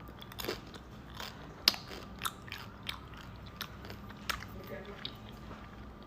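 Crunchy bites into a homemade fruit roll-up wrapped mochi filled with ice cream, several sharp crackling crunches spaced apart with chewing between, close to the mic, with a little talk in the background.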